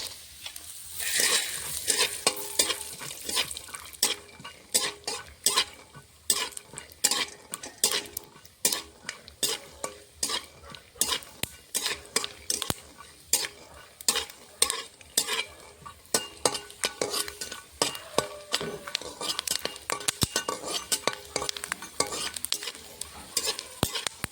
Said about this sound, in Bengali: বাদামটা ভেজে নেবে